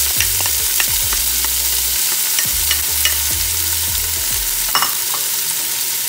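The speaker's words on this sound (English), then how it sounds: "we're gonna go ahead and cook this until the onions are translucent" Peppers and onions frying with cumin seeds in a hot pan, a loud continuous sizzle with rhythmic stirring scrapes throughout, no talking.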